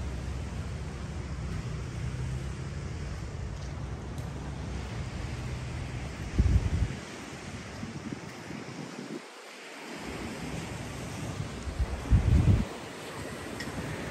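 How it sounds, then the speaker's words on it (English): Ocean waves at Jomtien, Pattaya, Thailand wash and crash in a steady roar, with wind buffeting the microphone and a couple of louder surges. "Gotta love the sound of the crashing waves"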